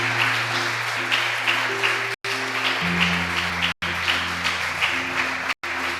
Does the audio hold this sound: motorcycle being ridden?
no